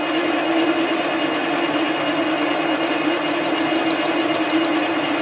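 A lathe taking a light 0.2 mm cut while recutting chuck jaws, giving a steady mechanical hum with a constant tonal whine and faint rhythmic ticking, heard alone with no talk.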